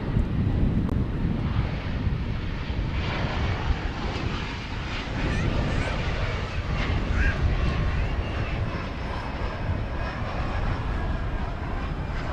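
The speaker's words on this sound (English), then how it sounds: "It's an Embraer" An Embraer 175 regional jet, American Eagle 4039, roars steadily at an airport in a broad rushing noise that stays even throughout, mixed with wind buffeting on the microphone.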